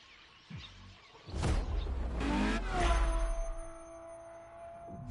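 A LaFerrari hybrid supercar in a driving video game sets off and passes by, its engine rising into a loud revving whoosh before easing back to a softer hum, with no one talking.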